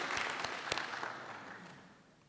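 An audience at a memorial lecture gives a speaker a round of applause, heard as a fairly faint, diffuse wash of clapping that slowly fades away.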